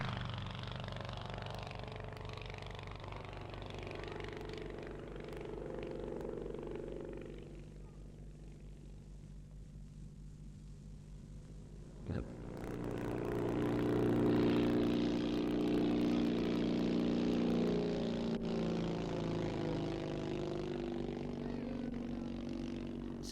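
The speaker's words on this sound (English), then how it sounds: "Now we can hear its two-cylinder engine." Two-cylinder engine of a Granger Archaeopteryx, a semi-tailless aeroplane, at a 1970s Shuttleworth Collection air show: a steady droning hum that dips for a few seconds, then returns louder and fuller, running continuously.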